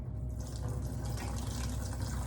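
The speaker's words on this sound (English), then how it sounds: "drain off all of our water" Soaking water drains off sliced apples into a kitchen sink as a continuous rushing, gurgling pour, close and steady throughout with no speech.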